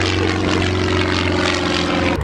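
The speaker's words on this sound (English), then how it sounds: "Check out this plane. Look how low it is." A low-flying propeller airplane passes overhead, a loud, steady, close droning roar with a strong engine hum that continues without a break and cuts off abruptly at the end.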